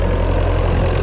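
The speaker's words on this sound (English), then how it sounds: "We got the 1390 on the scraper tractor" A 1390 scraper tractor's diesel engine idles close by on a winter farm, a loud, steady low rumble with a faint knocking texture throughout a brief moment.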